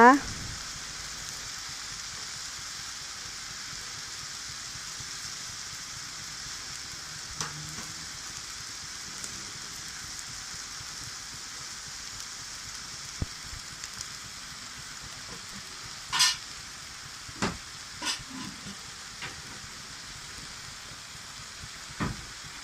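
Bai liang leaves stir-fried with egg in a pan give a low, steady sizzle, with a few sharp scrapes and clicks of the spatula breaking through later on.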